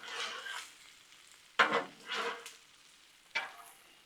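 Cabbage sizzling on a Blackstone griddle, a soft steady hiss broken by a few sharp scraping stirs, fairly quiet and close with no voices.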